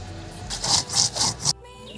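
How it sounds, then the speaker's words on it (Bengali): Cumin and garam masala are ground on a stone slab in a village kitchen, producing four rhythmic rasping strokes of a grinding stone, close and fairly loud, before stopping abruptly. "গরম মশলা এগুলোকে এখন পাটা বেটে নেব জিরে এখন বেটে নেব"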